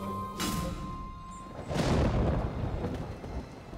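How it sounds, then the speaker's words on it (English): Rolling cartoon thunder in an animated children's show, a deep rumble that swells twice and lingers low, heard alone without talk. "The patter of his hooves makes the sound of thunder"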